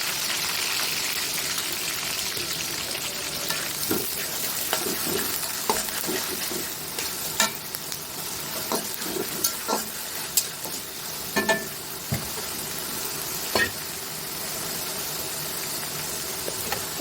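Chopped onions and bay leaf fry in oil in a pan for a curry, a steady hissing sizzle up close with scattered clinks and scrapes from stirring, without any speech.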